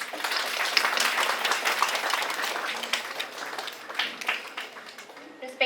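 Audience at a Radiography Day celebration for health sciences students bursts into steady clapping that lasts several seconds, then thins out into scattered claps.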